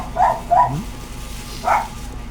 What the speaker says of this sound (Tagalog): Maingay ang alaga namin na aso.